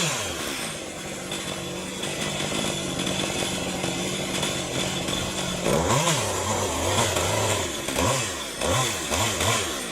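A chainsaw cuts into a 600-year-old tree. The engine drones steadily, then revs hard in repeated bursts as the chain bites into the wood, loud and close.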